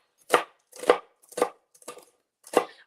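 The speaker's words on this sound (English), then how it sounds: "We're just chopping it up." A knife chops through strips of bacon on a cutting board, five sharp, evenly spaced thuds about half a second apart, close and clear with quiet between strikes.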